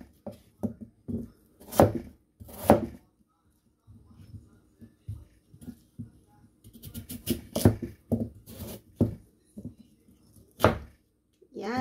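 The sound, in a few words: chopping chicken with a dull kitchen knife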